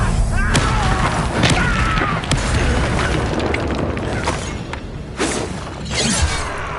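Confringo blasting curse firing in a Harry Potter-style video game: a run of loud shattering bursts and booming impacts, several crashing hits spaced through the stretch over dense game noise.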